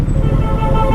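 Dense road traffic rumbles up close and loud, with a short car horn toot early on over the steady engine drone.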